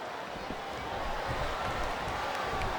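A large WWE SmackDown arena crowd at a Triple H vs. Torrie Wilson match keeps up a constant roar with scattered shouts, under commentators' voices.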